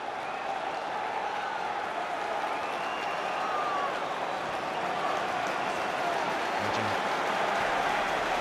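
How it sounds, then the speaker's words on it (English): Home fans at a Chelsea football match applaud at the stadium, a steady, distant wash of crowd clapping and murmur that swells slightly toward the end. "you can hear the home fans applauding"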